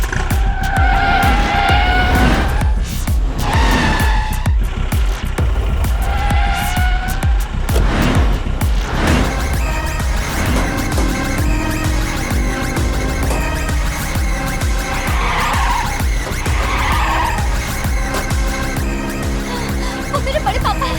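A car pulls away with its tires skidding and squealing, a loud, sustained screech over the engine that carries through the whole stretch, set within a dubbed Hindi action movie scene with dramatic music.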